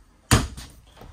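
A pot and pan drawer in an Alliance Valor 31T13 toy hauler travel trailer slides shut with one solid thump, followed by a brief rattle and a softer knock as it settles.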